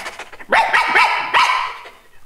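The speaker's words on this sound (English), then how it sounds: "so I barked and scratched at the door" A dog in a storybook drama about a loyal Skye terrier in old Edinburgh gives several sharp, close barks in quick succession, the first two close together and a third after a short pause, with no talk over them.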